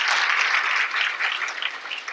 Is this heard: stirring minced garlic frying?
no